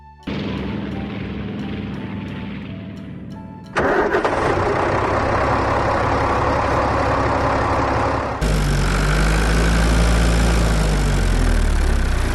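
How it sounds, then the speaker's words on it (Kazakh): A tractor engine cranks and catches, then runs in a steady drone that shifts to a heavier, louder idle partway through, with no voices. "Трактор."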